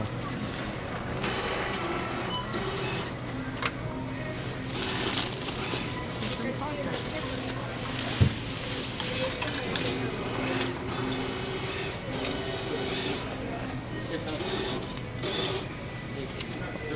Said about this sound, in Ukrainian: Автомат видає здачу. Беремо чек.